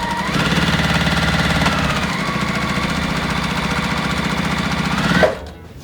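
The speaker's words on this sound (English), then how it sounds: "we're gonna sew all the way down" A sewing machine runs a steady, continuous stitch down a quilt block seam, its motor hum loud and close before it cuts off just before the end.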